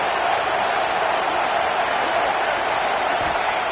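A stadium crowd at a college football game roars steadily as the home fans try to spur their defense to a red zone stop, a dense, continuous wash of noise with no pauses.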